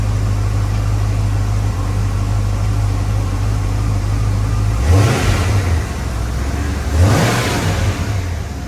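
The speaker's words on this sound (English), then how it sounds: "Give a quick test of see if it's going to rev hang here at the very beginning" A 1994 Ford Mustang GT 5.0 V8 with a newly fitted idle air controller idles steadily, then gets two quick revs that swell and fall back to idle, loud and close.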